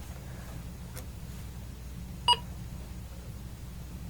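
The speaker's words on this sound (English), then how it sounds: "it beeps telling you that it's responding" An E&L MK-80Z micro trainer gives a single short, clean electronic beep as a button is pressed, standing alone over a low steady hum.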